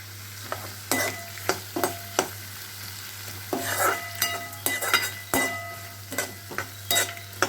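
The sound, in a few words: onions sautéing and being stirred in pan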